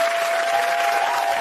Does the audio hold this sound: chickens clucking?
no